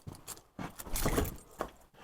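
Keys jangle in several short bursts of metallic clinking, near and moderately loud, while someone hunts for them beside a Jeep during an Illinois winter.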